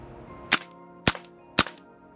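An airsoft PP-2K gas blowback SMG fires three separate sharp shots, each a crisp crack with a quick snap of the blowback, spaced about half a second apart against a quiet background.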